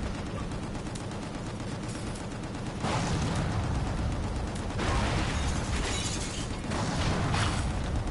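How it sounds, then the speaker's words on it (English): Constant loud battle noise from the video game Gungrave G.O.R.E on PS5, with dense bursts of explosions and gunfire that swell at about three and five seconds and keep rumbling without a break. "And there's explosions everywhere."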